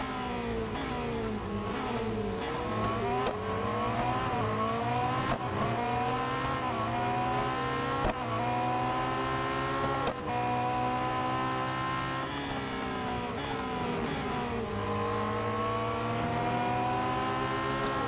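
Race cars in Real Racing 3 roar continuously, their engines rising and falling through gear changes in a dense, loud pack, with no voices over the engines.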